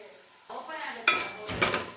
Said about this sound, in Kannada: ಇದನ್ನು ಎಣ್ಣೆಯಲ್ಲಿ ಚೆನ್ನಾಗಿ ಫ್ರೈ ಮಾಡ್ಕೊಂಬಿಡೋಣ.